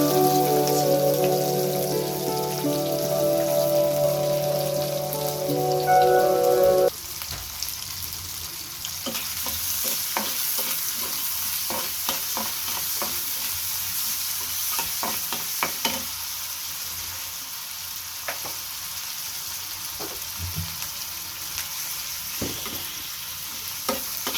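Onions fry in hot oil for a carp (karfu) fish bhuna, a continuous bright crackling sizzle with scattered stirring taps, following an opening stretch of background music that cuts off early.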